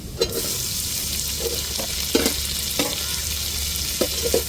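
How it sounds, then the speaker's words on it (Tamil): Onions and tomato sautéing in a pan for a home-cooked meal, making a steady sizzle with soft scraping stirs and occasional light clinks of the spoon. No one speaks. "வெங்காயம் சேர்த்துருக்குறோம் வெங்காயம் நல்லா வதங்கட்டும் இப்போ தக்காளி சேர்த்துக்கிடுவோம்"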